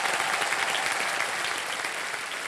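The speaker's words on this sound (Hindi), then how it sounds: "ताली बजा जोरदार कनक जी के लिए।" Studio audience applause on the KBC game show set greets contestant Kanak, a dense, steady wash of many hands clapping that fades slightly toward the end, with no speech over it.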